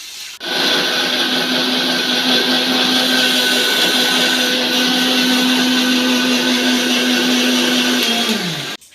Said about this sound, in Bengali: এখন মিক্সচার মেশিনে পেঁয়াজ আর লঙ্কা মিক্সড করা হবে